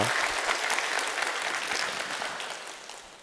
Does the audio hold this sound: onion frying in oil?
no